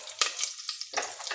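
Cumin seeds and two dried red chillies dropped into hot coconut oil for a tempering, giving a brief, close crackling sizzle with sharp pops and a stirring scrape, no voices.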